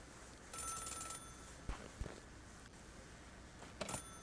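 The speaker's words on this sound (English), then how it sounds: "Oh, the phone's ringing." A payphone rings in the video game Celeste, giving two bright bursts of ringing separated by a pause, with scattered soft clicks between them, faint and without talk.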